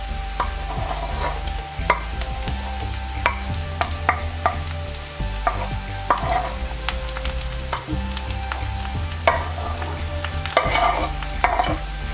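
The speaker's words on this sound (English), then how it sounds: "Now I am adding capsicum and mushroom together." Capsicum and mushroom sauté with onion in a pan for white sauce macaroni pasta, giving a steady sizzle throughout with repeated clinks and scrapes of a spoon stirring, close and continuous, with no talking.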